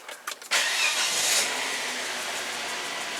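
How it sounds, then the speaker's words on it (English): A 2004 Volvo XC90 2.5T engine cranks briefly and catches, then settles into a loud, steady idle rumble close by. "go ahead and start your engine"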